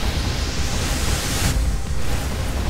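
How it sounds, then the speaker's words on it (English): A gas cannon blast fired in the space combat game Galactic Junk League, a loud, dense roaring burst of noise that drops off sharply partway through, then swells again, heard alone. "gas cannon blast to the face."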